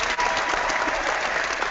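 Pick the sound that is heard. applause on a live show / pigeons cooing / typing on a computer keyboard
applause on a live show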